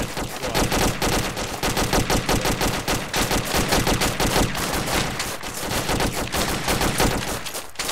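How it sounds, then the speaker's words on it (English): Dense, continuous automatic gunfire in the military video game Arma 2, loud rapid bursts of shots overlapping throughout with no pause. "We're shooting something"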